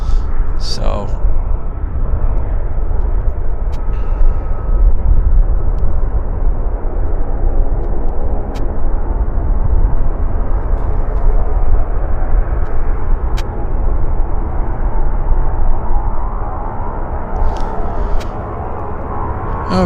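A float plane approaches the runway at Vancouver airport, its engine a steady low drone building over about twenty seconds, with someone talking over it throughout.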